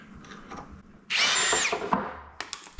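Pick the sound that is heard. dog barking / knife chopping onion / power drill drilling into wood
power drill drilling into wood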